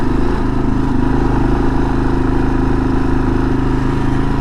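A 2022 Kawasaki KLR650 motorcycle's single-cylinder engine lugging steadily in first gear up a dirt hill in the Utah desert, a loud, close, even low-pitched thrum with no gaps.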